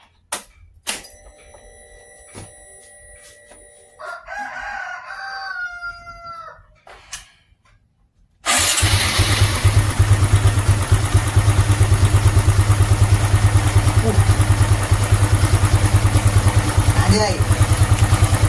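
A rooster crows and clucks nearby, then a Honda Supra X 125 FI motorcycle engine, after repair for a noisy sound, starts up and settles into a loud, steady idle that keeps running.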